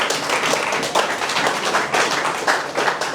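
Audience applause at a talk, a dense steady wash of many hands clapping together, loud and continuous throughout.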